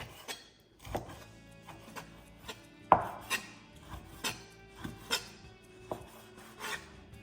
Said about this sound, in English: Now we're going to cut this into small pieces, about 1/2 inch thick.